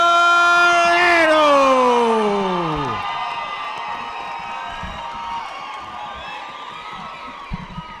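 At a boxing event, an announcer's long drawn-out call of a fighter's name gives way to a crowd cheering and hollering for boxer Jose Arellano, a broad roar that holds steady and slowly thins.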